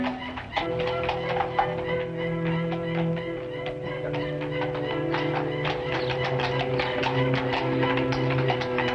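Horse-drawn carriage drawing up on a street, hooves clip-clopping in a steady rapid patter with rolling wheel rumble beneath, continuous and fairly close.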